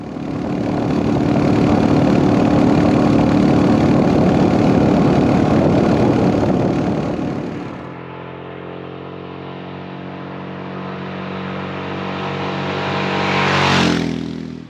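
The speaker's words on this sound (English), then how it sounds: "This engine lacks character. It lacks character in its sound." A Royal Enfield Himalayan motorcycle engine rumbles loudly at close range, then settles to a steady, lower idle before a short rev swells near the end.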